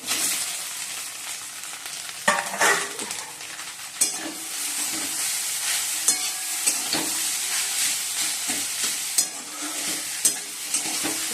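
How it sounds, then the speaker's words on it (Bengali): Fried potatoes tipped into a pan and stirred, a steady close sizzle of hot oil broken by intermittent metallic scrapes and taps of the spatula, no voices. "ওই আলু ভাজাগুলো দিয়ে দিচ্ছি।"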